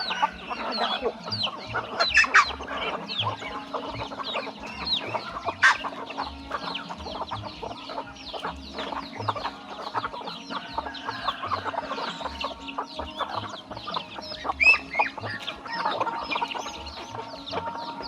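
Many native chickens clucking and chattering nearby, with a steady low murmur of soft clucks and occasional louder squawks.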